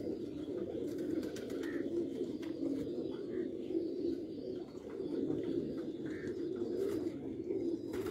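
Sialkoti breeder pigeons cooing softly in a steady, low murmur, with faint chirps and background noise around them.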